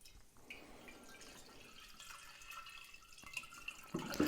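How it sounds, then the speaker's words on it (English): Water poured into a flower container for a seasonal arrangement, a faint trickle and splash building into a louder gush of filling toward the end, close by in a quiet room. "we're going to add some water to our container"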